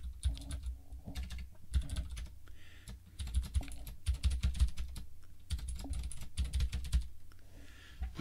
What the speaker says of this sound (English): then you just type in your usual name